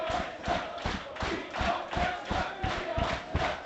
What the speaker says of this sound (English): Crowd certainly getting behind the Grecians.